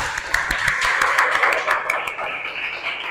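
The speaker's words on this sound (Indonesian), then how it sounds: "Ayo kita tepuk tangan untuk Alfian." Students clap for a classmate in a classroom, a busy patter of hand claps mixed with chatter and voices throughout, fairly close and steady before thinning slightly at the end.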